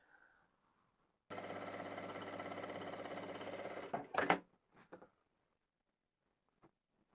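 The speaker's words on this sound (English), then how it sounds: "I'm just going to sew up those other 2 seams to make this into a tube." Sewing machine running steadily for about three seconds while stitching the straight seams of a fabric pom pom hat into a tube, followed by a few brief clunks and handling noises, with no talk.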